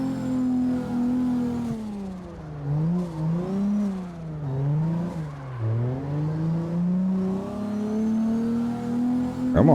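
Car engine in CarX Drift labouring in third gear, a steady loud drone whose pitch sags and climbs repeatedly as revs rise and fall, with no talk over it.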